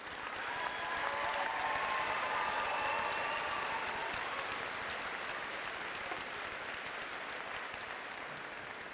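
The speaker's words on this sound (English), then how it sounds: "give yourselves a big round of applause because you deserve it" Graduates at a university commencement applaud themselves, a large crowd producing a broad, sustained roar of clapping that swells and holds steady throughout, somewhat distant in a big hall.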